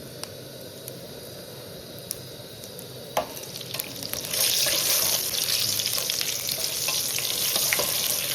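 Tempering seeds sizzle in hot oil for a potato dish, starting with quiet crackles and a tap, then rising into a loud, continuous close sizzle and spatter.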